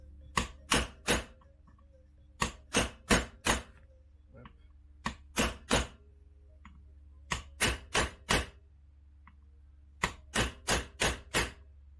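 Old, somewhat battered mallet striking metal parts to knock them out of a Yamaha Banshee Hinson clutch basket, sharp strikes in quick bursts of three to five with short pauses, close and alone.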